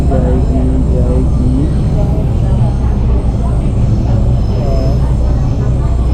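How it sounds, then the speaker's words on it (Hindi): A train rolls slowly along the track in Taiwan, a continuous loud low rumble with faint wheel squeals and tonal whines, steady throughout with some voice underneath. "ये ट्रेन जा रही है मेरी, ये धीरे धीरे चुक चुक चुक चुक कर करती जा रही है।"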